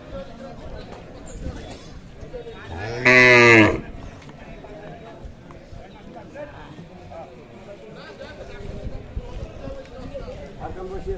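A single loud, drawn-out moo from a local-breed dairy cow lasting about a second, rising above steady background chatter and noise at a village cattle market.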